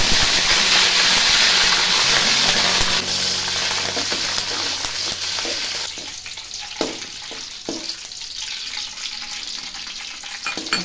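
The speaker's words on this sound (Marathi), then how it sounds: "आता कढीपत्ता घालायचा" Curry leaves spitting and crackling in hot oil in a pan while making Kolhapuri bhadang, a steady loud sizzle that thins out partway through, with a few sharp pops near the end.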